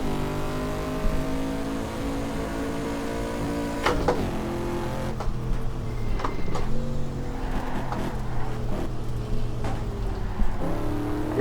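A Corvette race car engine in the racing sim GTR2 runs continuously, roaring and revving with several sharp gear-change dips, loud and close throughout.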